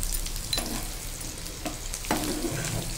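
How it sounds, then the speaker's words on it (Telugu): Chopped onions fry in a pan with turmeric, sizzling steadily while a spoon scrapes and stirs in a few distinct strokes, close and moderately loud, with no voices. "ఇప్పుడు ఉల్లిపాయలు ఇది బ్రౌన్ వచ్చేంత వరకు వేయించిన తర్వాత కాస్త పసుపు వేసుకుందామండి"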